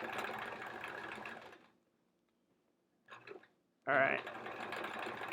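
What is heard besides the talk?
sewing machine free-motion quilting small circles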